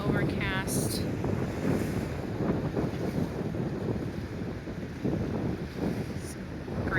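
Wind buffets the microphone at Rotary Park in Suntree, Florida, on an overcast, windy day, forming a loud, steady roar throughout, with faint bird chirps briefly audible.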